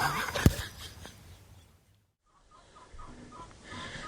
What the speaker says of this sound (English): I'm just letting my birds out now.